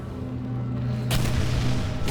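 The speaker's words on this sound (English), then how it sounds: "Oh no! The explosions are exploding!" Video game explosions boom over a steady low hum, a dull rumble building and then a loud burst that fills out the sound and holds.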